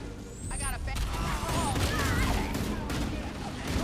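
Rapid assault rifle fire from the original AR in the Halo: Campaign Evolved shooter, bursts crackling amid battle noise with chirpy alien weapon sounds, moderately loud throughout.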